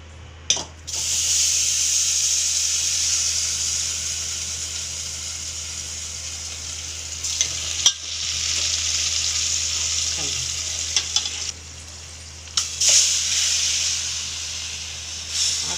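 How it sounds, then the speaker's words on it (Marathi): Milk cream heats in a pan for homemade ghee, hissing and sizzling steadily and loudly, broken by a few brief pauses and occasional stirring scrapes, with no talking. "याला चांगलं गरम तापू द्यायचे आणि तूप काढायचे त्याच्यात"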